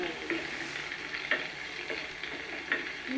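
Onion, carrot, bamboo shoot and shiitake stir-fry in hot oil with a steady sizzle, while a few soft scraping stirs of a utensil land at irregular moments in the pan.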